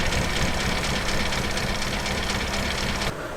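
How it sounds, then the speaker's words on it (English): A 1956 Standard 8 car engine idling, a steady, loud, close rumble that holds evenly throughout before cutting off abruptly near the end. "So we'll leave this one idling for a little bit"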